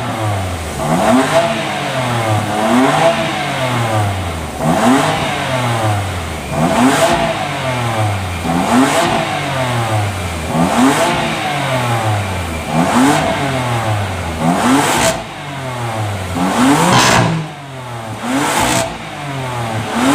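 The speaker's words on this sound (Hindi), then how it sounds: "एग्जॉस्ट सुनो पहले, ये भी स्टॉक नोट" A 453 hp car on its stock exhaust revs repeatedly in a steady pattern, each blip rising and falling, loud and close with no talk over it.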